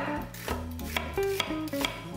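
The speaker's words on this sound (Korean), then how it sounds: "양파 반 개는 채 썰어주세요." A knife slices half an onion into thin strips on a cutting board, a quick run of crisp, close, evenly spaced cuts with no talking.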